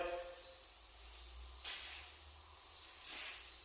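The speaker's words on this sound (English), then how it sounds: "And I just kind of go spray it, and I might do like one pass this way, one pass that way." Spray paint hisses from an aerosol can onto a PS5 console in two short bursts, one pass each way, fairly quiet over a steady low background hum.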